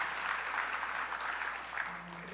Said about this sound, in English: Please give a quick round of applause for Father Flagg